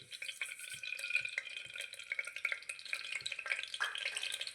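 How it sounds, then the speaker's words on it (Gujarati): Mustard seeds crackle and pop in hot oil inside a pressure cooker, a quick scatter of small sharp snaps over a steady hiss, with no talk. "રહી ફૂટે છે આપણી ધીમે ધીમે."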